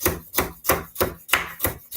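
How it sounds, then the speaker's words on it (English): A knife chops carrots on a board while making red lentil soup, seven crisp, evenly spaced strikes in a quick steady rhythm, close and clear with no talking. "here we are chopping the carrots, like so"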